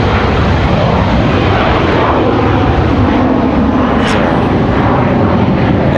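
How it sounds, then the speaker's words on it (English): An SAS business jet takes off from a runway at Raleigh-Durham International Airport, its engines a loud, steady roar that fills the whole stretch with no speech. "SAS business jet gets out of here."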